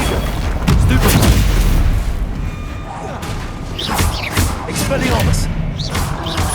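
Stupefy spells are cast in Hogwarts Legacy, each landing as a heavy boom or thud among whooshing magic effects, repeating several times at close range over constant game noise.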